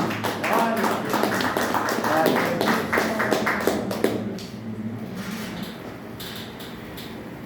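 Worshippers in a church clap together in rapid rhythmic bursts for about four seconds, then the applause thins into scattered, fainter claps and room noise.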